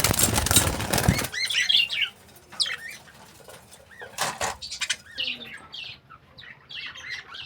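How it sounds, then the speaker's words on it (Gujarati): A tame pet pigeon beats its wings in a loud burst of flapping at the start, then softer intermittent flutters and scattered bird chirps and squawks follow nearby in a quiet setting. "આપણું ફેવરિટ કબૂતર છે આ."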